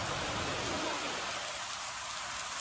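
Steady heavy rain pouring down, a dense continuous hiss with no voices.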